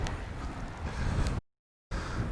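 Gusty wind buffets the microphone with a low rumble and hiss, cutting out briefly to silence before the blustering resumes.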